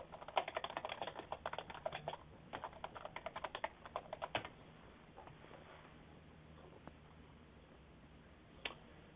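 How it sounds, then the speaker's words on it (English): Quick, uneven keystrokes clatter on a computer keyboard while text is entered in a presentation slide, coming in close, quiet bursts that pause and then trail off into faint, sparse taps. "So I'm going to simply type source,"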